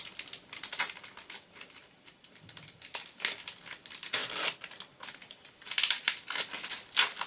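Close, crisp crinkling and tearing of foil packaging from a Japanese SV7a Pokémon trading card booster pack in quick irregular bursts, with rustles and brief pauses between.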